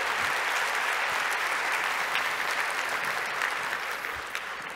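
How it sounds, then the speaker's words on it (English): Conference keynote audience applauding winners of the inaugural Integration Awards, a broad, steady roar of many hands clapping at once that fades slightly toward the close, with no voices over it. "please give a big round of applause to all of our winners for the inaugural Integration Awards"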